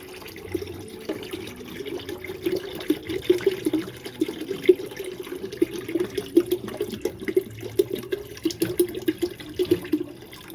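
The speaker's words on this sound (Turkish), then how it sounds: "Şimdi denizden alacağına bu kovanın içinden su alacak." A boat engine draws flushing water from a bucket, a steady gurgling, sloshing churn of liquid with a low rhythmic pulse underneath, continuous and fairly close, without speech.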